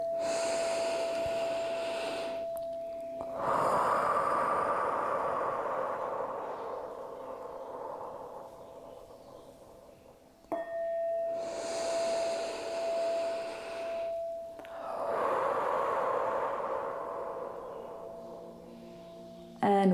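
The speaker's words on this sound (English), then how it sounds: "Three more inhales and exhales here." Slow, deep breaths during a yoga class, each long airy inhale or exhale swelling and fading over several seconds, close and steady, with a faint sustained tone underneath.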